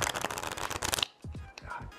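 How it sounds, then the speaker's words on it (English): Stiff, brand-new playing cards riffle-shuffled close up in one fast, crackling burst, followed by a few softer taps and handling sounds. "shuffling these is quite the hassle, actually"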